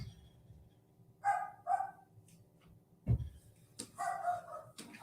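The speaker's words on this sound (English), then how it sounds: "I have a big dog, and when he barks like that, it gets on my nerves" A big dog barking indoors, several loud close barks in short bursts with gaps between, over a faint steady room hum.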